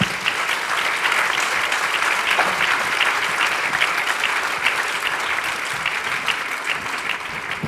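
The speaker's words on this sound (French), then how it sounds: "Applaudissez-le." An audience at a film festival music session applauds with a full, sustained round of clapping from many hands, steady and loud from start to finish with no talk over it.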